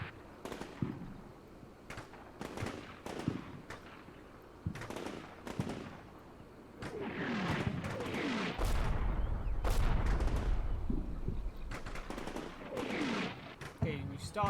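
Gunfire and mortar explosions from a war video game set in a building fight, arriving as repeated sharp cracks and bursts with a heavier sustained rumble of impacts midway, some faint voice activity mixed in.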